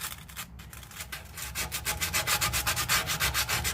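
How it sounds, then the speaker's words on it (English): Sanding on the rusty exhaust muffler of a Lexus RX 350 during a clamp repair, a close, steady rhythmic rasping that builds into regular back-and-forth strokes, with no talking. "Get that sanding again."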